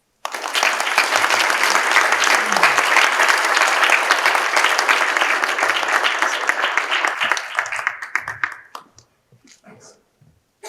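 A graduation-night audience at John Carroll University bursts into loud, dense applause after a speech, the clapping holding steady for several seconds before thinning out and fading to a few scattered claps and near silence.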